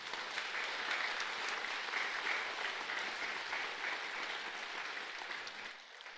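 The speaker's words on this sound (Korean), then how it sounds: "우리 큰 박수를 한번 보내드립시다." A congregation at a Buddhist memorial service for a great master applauds a monk's appointment, an even, moderately distant patter of many hands that tapers off at the end.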